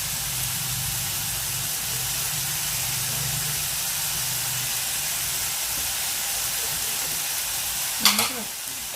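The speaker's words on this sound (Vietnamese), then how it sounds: "Rồi chúng ta xào lại để cho nó khô nữa là được nha" Vegan intestine with lemongrass and turmeric is stir-fried in a pan, giving a steady broadband sizzle with low stirring rumble throughout, near and moderately loud, and a brief sharper clatter near the end.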